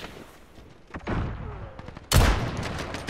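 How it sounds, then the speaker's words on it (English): Enemy sentry gun in Call of Duty Modern Warfare firing in bursts, a sharp volley near the one-second mark and a louder, closer blast later, sounding over a quiet game background. "Enemy sentry gun active."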